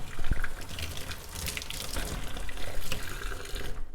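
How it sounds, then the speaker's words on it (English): Water runs steadily from a tap into a sink while paint brushes are rinsed, making a continuous close splashing and gushing with small fluctuations. "So to clean the brushes, we just use soap and water. We just rinse them out in our sink."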